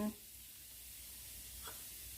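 Shrimp stir-fry in a pan over low heat with a soft, steady sizzle. A brief clink comes at the start, and a faint scrape follows partway through.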